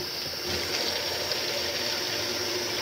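Hot water runs from a tap in a steady, even rushing flow, close and moderately loud, with a slight swell after the first half second.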